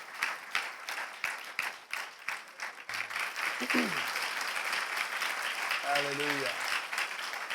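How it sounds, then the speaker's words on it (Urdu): A church congregation claps to welcome first-time visitors, the opening beats coming as distinct separate claps before swelling into dense, continuous applause, while a voice speaks and cheers over the clapping. "ان سب کو تالیاں بجا کر لیونگ برانچ چرچ میں ویلکم کرتے ہیں"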